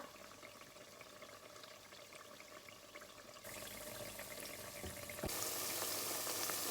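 Oil sizzles and crackles steadily as banana slices deep-fry over medium heat, the hiss growing louder in two steps, with no voices.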